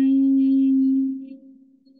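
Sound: humming bee breath, humming while breathing out in yoga

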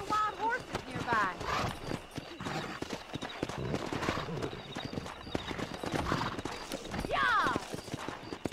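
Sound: wild horses galloping, from the video game Red Dead Redemption

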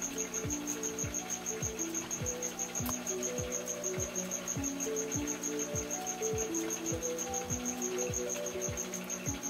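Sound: crickets

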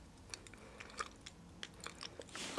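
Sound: chewing and smacking while taste-testing grapefruit-flavored sweets

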